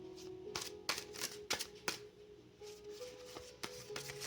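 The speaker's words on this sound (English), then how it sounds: "I am a messy shuffler for those of you that can't see me shuffling right now." Tarot cards shuffled loosely by hand, giving a steady run of soft riffling and sharp slapping clicks, close and quiet with no talk.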